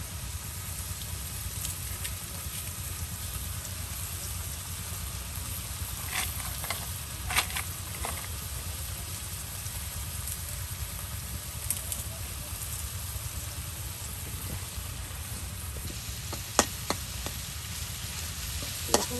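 Kalmi greens (water spinach) frying in a pan give a steady, moderate sizzle with a low crackling hiss throughout, plus a few sharp clicks near the end, with no voices.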